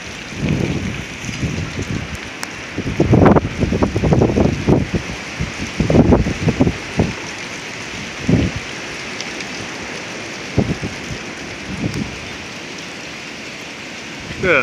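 Gusty windstorm in northern Oklahoma buffets the microphone in uneven rushes, strongest in the first half and then settling into scattered shorter blasts over a steady low rumble.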